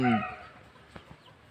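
A backyard chicken coop in a Thai home garden gives a short, loud burst of clucking at the start, then fades to quiet background with a couple of faint clicks.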